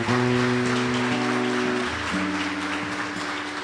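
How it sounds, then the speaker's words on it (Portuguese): A church congregation applauds in a dense, steady wash of clapping that fills the hall, with sustained organ or keyboard tones humming beneath it. "Convido você a aplaudir a presença do Senhor"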